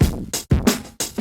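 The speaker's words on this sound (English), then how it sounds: "we're really distorting the crap out of the bottom end and then removing the bottom end again." Short electronic drum loop pushed through heavy overdriven distortion on the low end, its bottom then cut back out by EQ, giving punchy crunchy hits in an uneven stop-start rhythm across three bursts.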